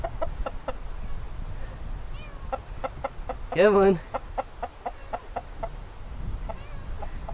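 Hens cluck in short repeated bursts, with one louder squawk partway through, over steady outdoor background noise and a brief spoken call.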